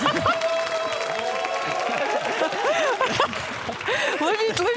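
Audience applause at a volunteer event, a steady wash of clapping from a crowd throughout, mixed with overlapping chatter and voices.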